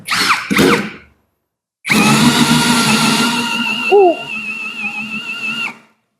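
A Lucid LX-60 cordless drill in drilling mode at speed 1 runs in one long, steady high-pitched whir that dips slightly under load, following a brief spoken voice.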